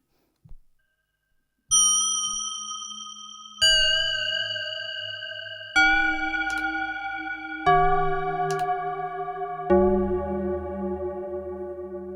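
Arturia MicroFreak synthesizer playing an ambient bell patch with reverb: six struck bell-like tones about two seconds apart, each step lower in pitch, each with a sharp attack and a long, shimmering, sustained decay that overlaps the next.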